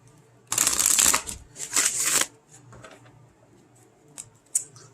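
Tarot cards shuffled close by in two brisk riffling bursts, followed by softer, scattered flicks and taps of the deck in a quiet room.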